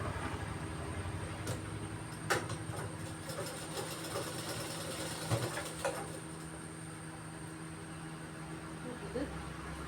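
Sewing machine stitching a cut shemi garment, a steady mechanical whirr running throughout with a few brief clicks and knocks, close and moderately loud.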